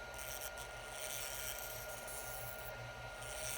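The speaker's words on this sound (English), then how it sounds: "Using the Easy Wood Tools #1 hollower here." An Easy Wood Tools #1 hollower cuts inside a purpleheart vase spinning on a wood lathe, a steady close whirring scrape with a low pulsing motor hum underneath, quiet and continuous.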